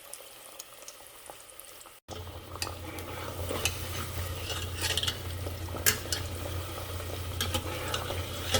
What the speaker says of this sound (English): Basically, I'm gonna fry them first and then press them down